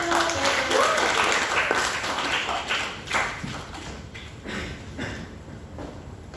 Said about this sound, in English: let's give a round of applause to Mr. Paolo